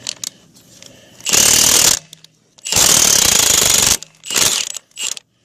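A Milwaukee 2767-20 high-torque impact driver hammering a rusty lug nut off an old Dodge axle, in three long, loud rattling bursts separated by pauses, then two short final blips.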